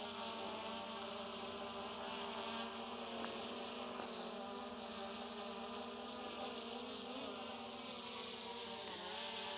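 A DJI Mini 3 Pro drone lifts off and hovers close by, its propellers giving a steady, high-pitched whirring buzz that holds at an even level throughout.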